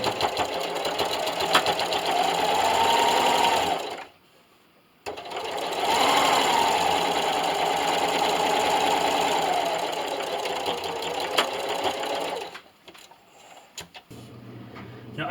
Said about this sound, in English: we're going to take this back to our sewing machine with that straight stitch, and I'm going to sew directly on this line